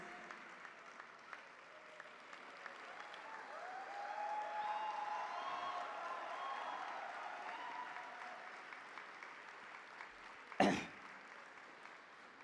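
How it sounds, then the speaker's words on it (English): An audience at a campus music concert applauds a band with steady, moderately loud clapping that swells in the middle, a few coughs and throat clears mixed in, and a sharp bump near the end. "Please give a good clap to all of them."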